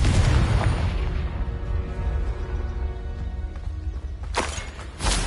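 A Confringo spell explodes in the Hogwarts Legacy video game, a loud boom that rolls into a low, sustained rumble, followed near the end by two sharper bursts.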